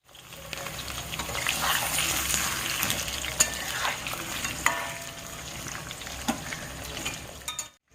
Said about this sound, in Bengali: আমি এবার আলুটাকে একটু ভেজে নেব।